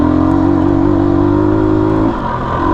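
A KTM 250 EXC-F dirt bike engine labours in second gear while climbing a high mountain trail in Colorado, a close, steady drone that loses pitch near the end before cutting off.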